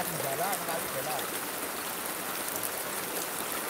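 Rain falls steadily beside a river during an outdoor meal, a dense continuous hiss of drops and rushing water filling the whole clip, with faint talk briefly underneath.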